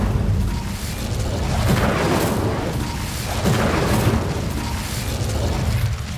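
An Incendio fire spell is cast repeatedly in Hogwarts Legacy, making loud whooshing bursts and booming flame surges that swell and fade in waves over a constant rumble.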